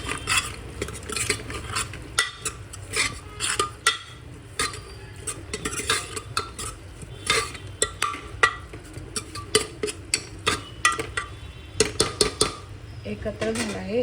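A spatula stirs coriander powder and kitchen king masala together in a cooking pan, with repeated scraping and clinking strokes in an uneven rhythm over a low sizzle, close and without talking.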